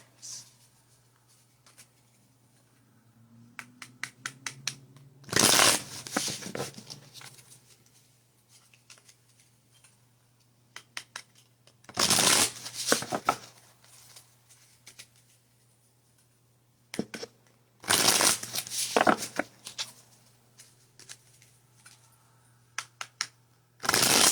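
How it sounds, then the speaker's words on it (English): Repeated bursts of tarot cards being riffled and bridged, several separate shuffles with quiet pauses and small tapping sounds between them. "I'm going to shuffle"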